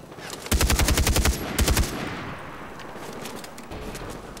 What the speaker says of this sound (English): Uh-oh. Getting shot at.